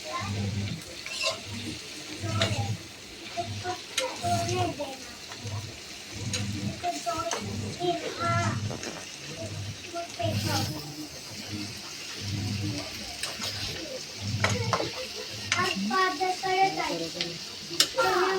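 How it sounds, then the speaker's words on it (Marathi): Sprouted bean bhaji is stirred in a frying pan, with soft rhythmic scraping strokes and a light sizzle repeating through the span while a person talks over it. "त्याला 2 ते 3 मिनिटं चांगलं मिक्स करून घ्यायचं।"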